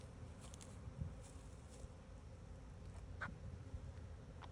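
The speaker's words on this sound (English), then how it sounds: "flying up out of the meter box, buzzing around a little bit, and then going in" Honeybees buzz faintly around an irrigation control meter box during a live removal, a soft steady hum with occasional brief buzzes of single bees flying past.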